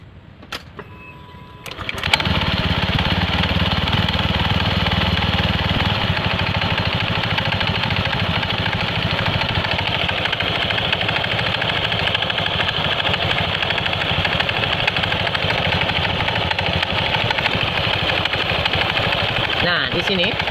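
A Honda Scoopy scooter with a worn, noisy CVT and rusted boss and pin starts after a brief quiet moment, then idles steadily with a loud, close, droning engine hum.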